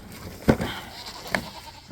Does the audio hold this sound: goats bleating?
yes